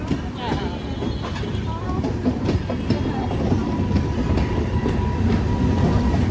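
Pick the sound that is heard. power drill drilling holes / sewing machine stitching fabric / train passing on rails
train passing on rails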